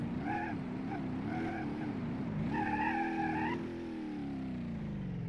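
A Honda Civic in BeamNG.drive revs hard and skids, its engine note rising and falling while tyres squeal in bursts, close and moderately loud, easing off toward the end.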